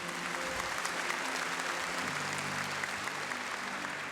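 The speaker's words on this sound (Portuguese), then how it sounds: "Uma salva de palmas, gente." Audience at a church prayer event breaks into steady, dense applause that holds through the whole stretch at moderate loudness, with faint murmurs in the room beneath it.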